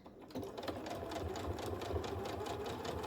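A sewing machine stitches a small quilt in the ditch at a longer stitch length, a steady close mechanical whir that starts after a brief pause and runs on evenly with no talking.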